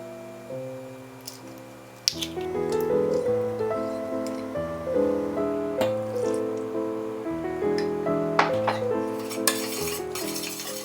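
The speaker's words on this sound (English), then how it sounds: "add all of the ingredients and whisk thoroughly to combine" A whisk beats custard ingredients in a medium pot, rattling and clinking against the metal sides in repeated strokes under a melodic music bed.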